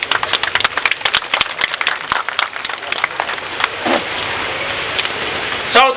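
Guests at a family havan and book launch gathering clap in applause, a crisp spread of individual hand claps, fairly close and loud, thinning toward the end with a voice briefly heard.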